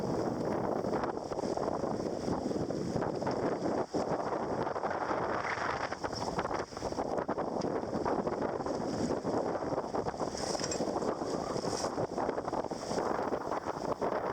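A gaff-rigged cruising sailboat driving through heavy wind, with steady roaring wind buffeting the microphone, rushing water along the hull and rigging noise, loud and continuous throughout with no speech.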